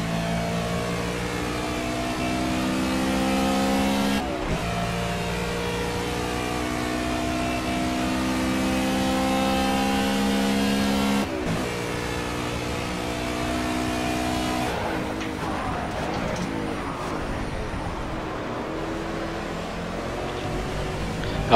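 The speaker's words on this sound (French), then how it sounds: "on revient bien sur le pilote de l'Aston Martin dans les freinages" Aston Martin GT race cars in Project CARS at Road America howl loudly and continuously, engines dropping pitch as they brake into corners. A steady, close roar that turns rougher and more broken near the end.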